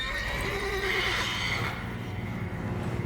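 A mare whinnies in The Witcher 3, a drawn-out neigh over a background of hoof clip-clop and ambient game sound, fairly close and prominent.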